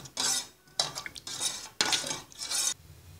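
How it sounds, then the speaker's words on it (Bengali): A semolina and egg mixture is stirred into milk in a pot, heard as four brisk bursts of a spoon scraping and swishing against the pan, with short pauses between. "ভালো করে নেড়ে সুজির মিশ্রণটাকে দুধের সাথে মিশিয়ে নিব"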